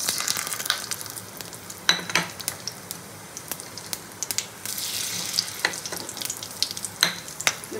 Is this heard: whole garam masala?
yes